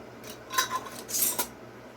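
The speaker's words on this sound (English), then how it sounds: "now we're going to put our lids on here" Metal lids set onto hot glass canning jars of sliced jalapeño peppers (cowboy candy), a few quick clinks and light clatters spread over two seconds, close and fairly quiet, with no talk.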